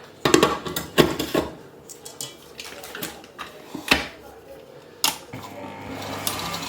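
Homemade chocolate brownie batter being stirred in a bowl, with irregular scraping and knocking clatters of the utensil against the bowl, some sharp and close, separated by softer stirring and brief pauses.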